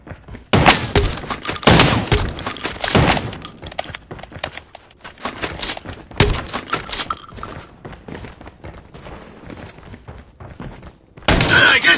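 Video game gunfire in a low-tier clan event match: loud, close bursts of rapid shots come in clusters, separated by quieter stretches of background game sound.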